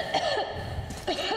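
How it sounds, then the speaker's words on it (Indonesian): A character in the post-apocalyptic shooter Metro Exodus coughs in two short, rough fits, one near the start and one near the end, close and fairly loud over a low background hum. "batuk-batuk lagi dia"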